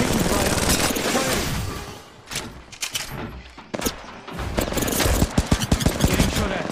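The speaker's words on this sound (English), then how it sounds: "Getting shot at." Gunfire in the video game Bully (Anniversary Edition): dense bursts of shots and booms crackle through the first two seconds, then come in scattered sharp cracks and rapid volleys, loud and close, with voices heard in the mix.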